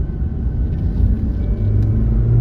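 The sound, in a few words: 1996 Toyota Celica non-turbo 2-liter engine driving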